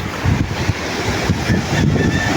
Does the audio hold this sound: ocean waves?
yes